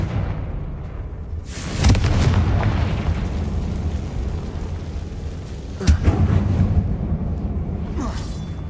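Fire spell explosions in Hogwarts Legacy go off in a tomb-like mine, two heavy booming blasts with rumbling tails, each followed by sustained roaring rumble.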